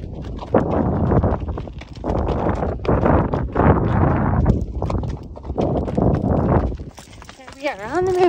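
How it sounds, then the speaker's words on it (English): Horse hooves clip-clop steadily on a rocky endurance trail during the Tevis ride near Soda Springs, a continuous close rhythm of steps with wind noise and a brief high whinny-like sound near the end. "horse is feeling fresh after walking up those hills"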